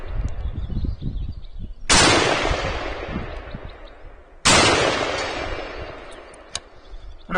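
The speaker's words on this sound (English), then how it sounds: "roughly 200 meters on steel with my AK, shooting it, making those plates ring" Two loud AK rifle shots fired at steel plates 200 meters away, each a sharp crack followed by a long ringing decay, spaced a few seconds apart, with a quieter tap near the end.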